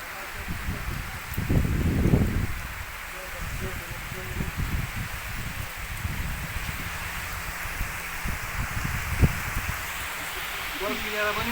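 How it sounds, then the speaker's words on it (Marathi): Wind gusts rumble and buffet continuously across a farm field with rustling in the background, strongest in a burst near the start, with a few low thumps. "वारं पण सुटायला लागलं"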